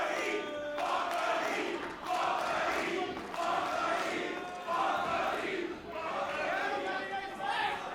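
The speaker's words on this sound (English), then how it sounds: "The crowd absolutely loves the heat." Crowd at a Prestige Wrestling show cheering and chanting loudly in swelling waves throughout, with a dense roar of many voices.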